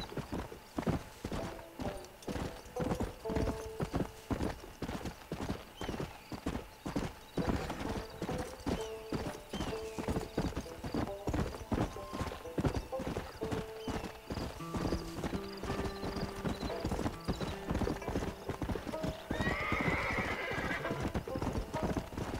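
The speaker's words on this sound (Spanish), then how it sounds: "Me encantan estos paseos a caballo." Rapid rhythmic hoofbeats of a galloping horse continue throughout, with a horse whinnying near the end, all sounding like synthetic game audio from Red Dead Redemption.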